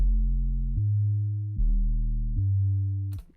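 Distorted synthesizer sub bass plays alone as three sustained, gritty low notes of about 0.8 seconds each, followed by a short fourth note that cuts off abruptly.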